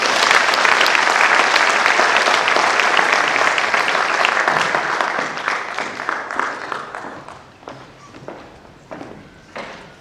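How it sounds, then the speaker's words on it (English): An audience claps loudly at a graduation ceremony in Kenya, a dense burst of applause that fades into scattered individual claps. "This is where you clap for me."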